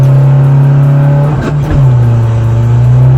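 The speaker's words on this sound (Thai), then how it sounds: "ยกครับยกคันเร่ง โอ้ยเข้าเกียร์ผิด สี่มาสามเลย" A remapped 2020 Isuzu 1.9 DDI Blue Power diesel engine drones loudly at steady revs while driving, dips briefly during a gear change, then climbs again with a strong continuous hum close by.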